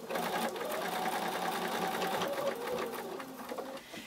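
A sewing machine runs a seam forward and back at the start of a change purse, a close, continuous whirring hum with a subtle rhythmic needle patter throughout.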